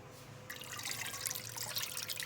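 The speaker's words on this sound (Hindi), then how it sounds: "इस कढ़ाई में मैं अभी डालूँगी पानी" Water pours into a kadhai while beef paye halwa is being made. After a brief quiet moment, a steady close splashing pour begins and continues to the end, with no voices.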